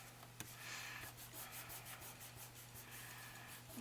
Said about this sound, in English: So I am going to place this down like that, rub it down really well.